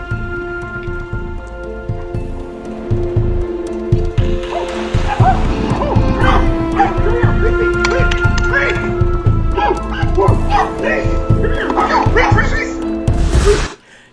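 Dog barking rapidly and repeatedly at a moose outdoors, loud sharp barks in a busy stream with thudding movement underneath, cutting off abruptly near the end.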